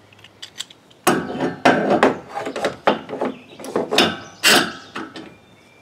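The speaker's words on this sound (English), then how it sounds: "for added safety measures, we're going to put a clamp on there." Clamp being fitted and tightened onto a snowmobile trailer clamshell, close scraping, rubbing and ratcheting knocks in irregular bursts after a quiet start.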